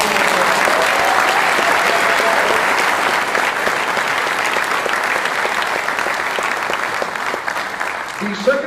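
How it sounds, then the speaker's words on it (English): Sustained round of audience applause at a military CBRN warrior competition awards ceremony, dense even clapping from a large crowd lasting several seconds before tapering off. "All right, round of applause."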